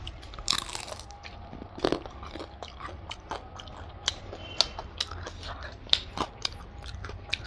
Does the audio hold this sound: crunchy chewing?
yes